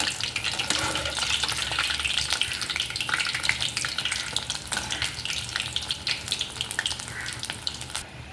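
Urad dal vadas fry steadily in hot oil, a dense, continuous sizzle with crackling pops running throughout, close and fairly loud with no talking.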